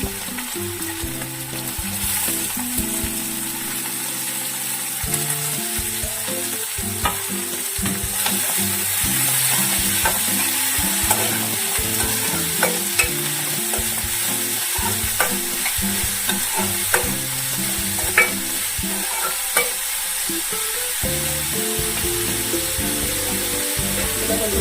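Onions frying and being stirred in a pan for a fenugreek tomato curry, with a steady loud sizzle and repeated scraping, clattering stirring strokes throughout, no talking.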